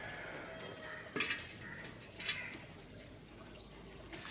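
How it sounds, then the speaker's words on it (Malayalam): A couple of sharp metallic clanks as a pan is set down on a stove, nearby, over a quiet kitchen background hum. "ചട്ടി വെക്കാം."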